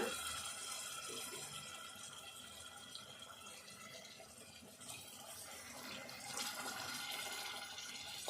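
Water poured from a small vessel into a cooking pot while making goat trotter curry, a soft steady splashing trickle over low kitchen background noise.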